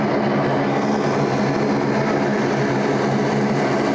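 A United airliner taxis at Sydney Airport, its engines giving off a steady, continuous broadband roar with a low hum throughout, fairly loud and unbroken, with no voices.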